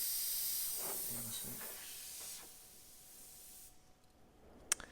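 White paint spraying through an airbrush with a fine nozzle and needle, a thin steady hiss that sputters and fades, then cuts off with a couple of small clicks at the end.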